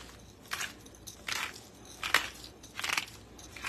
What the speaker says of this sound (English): it's so satisfying to twist this grinder.